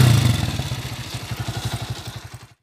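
A motorcycle with a freshly readjusted carburetor thumps in a steady low rhythmic pulse at close range, with some clatter, then cuts off abruptly at the end.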